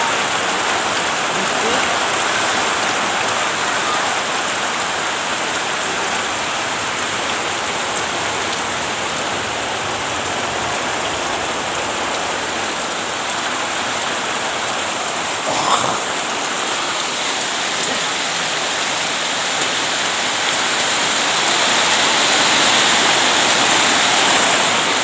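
Heavy rain pours in a loud, steady, unbroken wash for the whole stretch, with a brief louder patter partway through and no voices.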